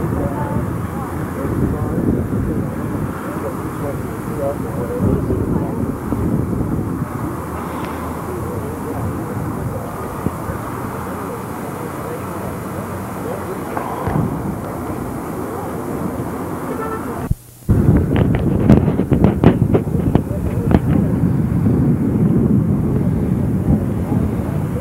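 A Vin Fiz replica of a 1911-era aircraft drones steadily at an outdoor event in Streator, Illinois, a continuous engine roar that drops out briefly, then returns louder with crowd and traffic noise around it.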